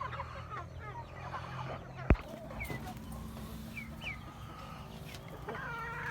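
Pet chickens and ducks cluck and call around feeding time near a cage, with repeated soft clucks and a sharp bang partway through over steady farmyard background.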